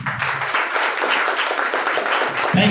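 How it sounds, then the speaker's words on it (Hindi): An indoor audience at a product presentation gives a short burst of brisk clapping, fairly close and moderately loud, with a voice briefly overlapping at the start and end. "टानिस के लिए जोरदार ताली होना चाहिए।"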